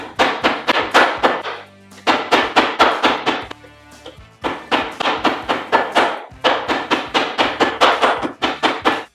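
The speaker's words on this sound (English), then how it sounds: "Now that the steaks are pounded out" Repeated heavy thuds of a mallet pounding steak, fast rhythmic bursts of blows broken by short pauses, loud and close.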